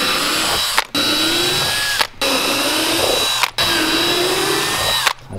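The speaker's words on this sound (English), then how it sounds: "let's get some more drilling, because this is pretty cool." Power drill boring holes for a Dodge Hellcat widebody kit install, running loud and steady in four long bursts with brief pauses between, the pitch sagging slightly as the bit bites in.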